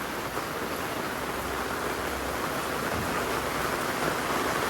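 Heavy rain pours down steadily in a dense, unbroken hiss that stays loud and even throughout, with no voices or other sounds standing out.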